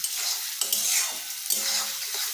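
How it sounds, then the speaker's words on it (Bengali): Spice paste and tomato fry in oil in a pan for a Bengali tilapia fish curry, a close, steady sizzle broken by quick scraping strokes of a stirring utensil, with no voices. "ততক্ষণ মশলাটাও ভাজা হয়ে যাবে।"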